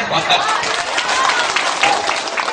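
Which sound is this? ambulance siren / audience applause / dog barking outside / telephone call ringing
audience applause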